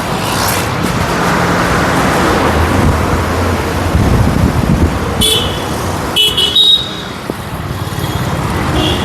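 A car setting off for Visakhapatnam after unloading from a transport container, with a steady engine and traffic rumble throughout and brief horn toots and a sharper burst of road noise near the middle.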